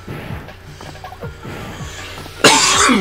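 A single loud, harsh cough bursts out near the end, close and sudden, after a stretch of quiet low rumbling from an elevator in the video game Kim Possible: Global Gemini.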